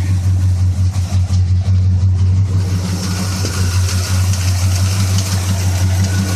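A 1979 Chevy El Camino V8 runs steadily at idle with an aftermarket fan, a loud, close, continuous low rumble that holds even throughout with slight fluctuations and no talking.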